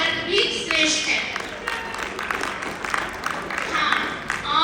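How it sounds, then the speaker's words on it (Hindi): Audience applause at a school Hindi Day debate competition, steady clapping from a crowd filling the room, sustained and fairly loud throughout. "तो एक बार आप तालियां बजाइए कि बालक वर्ग भी श्रेष्ठ है।"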